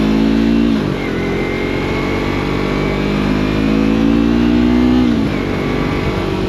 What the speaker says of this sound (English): The exhaust certainly has an interesting sound